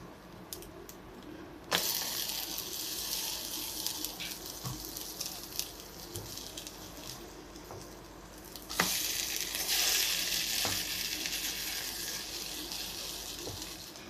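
Gluten-free chocolate brioche eggy bread sizzling in a frying pan, a steady close crackle and patter that jumps louder twice as slices are flipped, with occasional scrapes and no voices.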